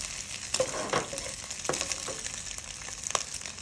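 Egg frying in a wok for pad Thai, a bright continuous sizzle close by, with a few soft scrapes and taps of the spatula.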